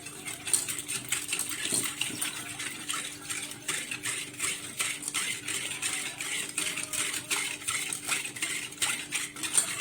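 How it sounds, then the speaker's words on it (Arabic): A whisk beats ingredients for a quick, cold no-bake dessert in a bowl, a steady run of rapid metallic clinks and scraping strokes against the bowl's sides, close and continuous throughout with no talking. "واجيب بقى كده المضرب وتاني اضرب فيهم كويس قوي كده، ادوبهم مع بعض كويس"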